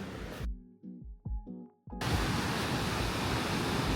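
The roar of Mamquam Falls near Squamish, British Columbia, sets in about halfway through as a steady, dense rush of water that follows a quiet stretch holding only a few faint tonal notes.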